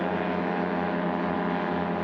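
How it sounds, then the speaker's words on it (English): A stock yellow Carbon Cub aircraft idles at the line of a STOL drag race, its engine and propeller giving a steady, loud, continuous drone with no break across the whole moment. "Bruce Graham in the number 2 lane in the yellow Carbon Cub"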